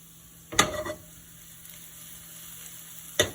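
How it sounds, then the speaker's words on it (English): Rice being stirred into melted butter in a hot pan for risotto: a soft steady sizzle with two brief scraping clatters of the spoon against the pan, close and quiet, with no voices. "I'm just stirring in my rice, making sure it's fully coated in the butter"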